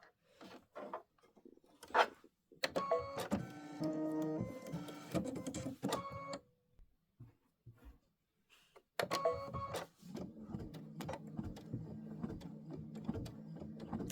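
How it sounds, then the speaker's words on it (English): An embroidery machine stitches a Halloween tile design with a steady, rapid mechanical whirr and tonal hum, running in long bursts with short pauses between them, close and clear with no talk. "This is 3 minutes of stitching. It's going to stitch all that fun stuff."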